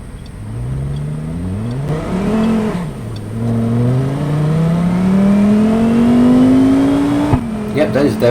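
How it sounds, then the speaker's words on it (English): An inline-five car engine in the BeamNG.drive video game revs through the gears, pitch rising with each upshift, then a long steady climb in one gear before easing off, loud and close. "it does seem like an inline 5 again from the sound."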